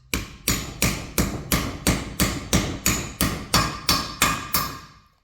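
Metal engine parts are tapped with a hammer until seated during a 2.9-liter OM605 diesel stroker build, about a dozen evenly spaced ringing strikes, close and clear with no talk.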